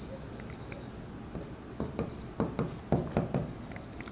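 Pen scratching across paper while working an accounting trial balance, a close, quiet run of short strokes with brief pauses and soft rustle.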